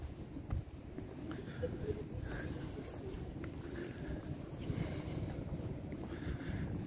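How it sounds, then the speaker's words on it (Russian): A stormy, raging sea whipped by strong wind at Arkhipo-Osipovka, heard as a continuous loud roar of surf and gusts buffeting the microphone, with faint voice traces underneath. "Море сегодня прямо бушующее"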